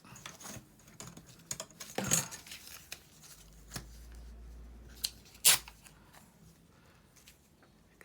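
Scissors cutting through magazine paper to shape a handle: a few sharp crisp snips and rustles over quiet gaps, close and fairly faint, with light paper handling between cuts.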